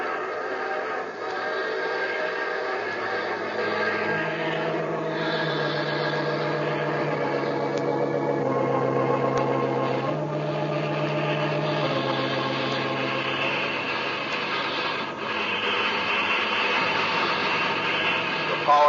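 A speeding steam train roars steadily in an old radio drama, a loud, continuous rumble with shifting tones, as if heard up close.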